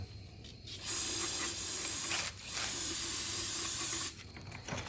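Aerosol cleaner sprays onto a Nissan 350z rear differential in two long, loud, steady hissing bursts, each lasting over a second, with a brief pause between them and quieter shop noise before and after.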